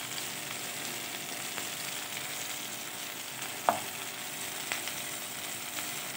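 Hilsa fish frying in a pan with cumin and turmeric, a soft, steady sizzle running throughout with a single sharp clink near the middle and a few faint taps.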